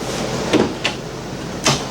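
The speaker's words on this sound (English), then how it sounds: "Another drawer down here." A drawer slides and bumps close by in the kitchen of a 2019 Entegra Coach Aspire 44R motorhome, a few short scraping thuds against a steady background hiss.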